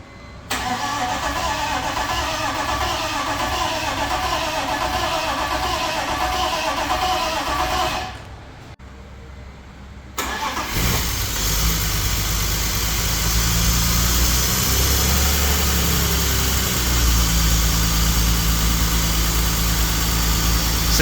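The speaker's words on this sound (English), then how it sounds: "we'll see if we can get this engine to turn over" BMW E46 drift car engine cranking and firing up after a brief silent pause, then settling into a steady rough idle that rumbles on at close range.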